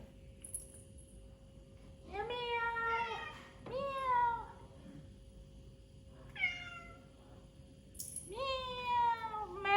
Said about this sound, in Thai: เก็บแมวมาเลี้ยงสามสิบสามตัว